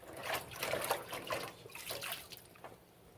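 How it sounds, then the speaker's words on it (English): Clay-working tools rinsed under running water, a soft trickling, splashing flow with intermittent bursts as the tools move through the stream, fairly quiet and close with no speech. "Rinse my tools once more."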